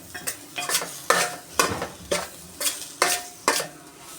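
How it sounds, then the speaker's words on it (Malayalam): Chili and coriander powder fry in a pan while a utensil stirs them in regular scraping strokes, about two per second, over a soft sizzle. "മുളകും മല്ലിപ്പൊടി എല്ലാം ഒന്ന് മൂത്തതിന് ശേഷം നന്നായി ഇളക്കി കൊടുക്കണം"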